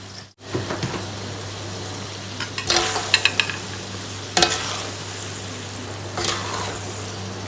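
Previously fried ingredients for sambal goreng paru, a beef lung dish, are stirred in a sizzling pan. Steady frying hiss runs throughout, with several louder scraping bursts from the stirring.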